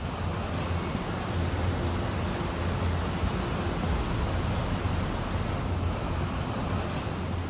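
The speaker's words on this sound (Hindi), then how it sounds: "मोना लासू नाला किस तरह से डरा रहा है, इन तस्वीरों को देखकर और आवाज सुनकर कोई भी खौफजदा हो जाएगा।" A flash-flooded mountain stream in Old Manali roars without pause, a thick, steady wall of rushing water noise heard close and loud, with a low rumble beneath and no talking.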